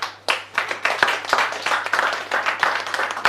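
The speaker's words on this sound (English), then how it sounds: "So give Elimi a round of applause" Live-event audience applause rings out after a speaker's introduction, a lively burst of many hands clapping at close to moderate distance.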